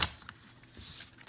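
A Pagan Otherworlds tarot deck is shuffled by hand, giving soft quick riffling and sliding card sounds in a few short bursts, close and quiet.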